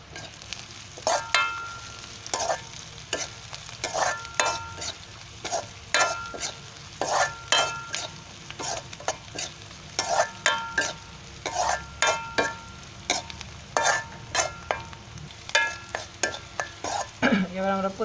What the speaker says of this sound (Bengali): তারপর আমরা পেঁয়াজ এবং রসুনটাকে একটু ভেজে নিব।